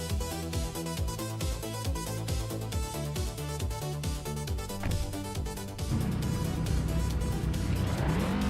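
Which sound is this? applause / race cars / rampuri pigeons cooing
race cars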